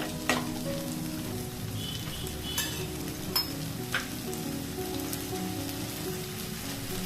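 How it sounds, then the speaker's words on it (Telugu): Potatoes frying in oil in a pan for aloo poha, a steady close sizzle with a few sharp clinks and stirring scrapes scattered through it. "ఇప్పుడు ఆలు కొంచెం ఉడికే వరకు ఉడికించుకుందాం."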